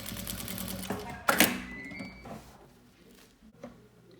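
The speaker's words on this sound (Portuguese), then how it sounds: "agora nós vamos costurar a volta toda, tá? Da almofada." A sewing machine stitches a cushion cover with an invisible zipper, giving a short, close mechanical whir in a brief burst that then fades to faint handling noises.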